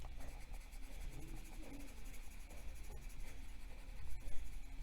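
Colored pencils scratch and rub across paper during coloring, a soft, close, continuous scritching with small strokes and a brief louder burst near the end.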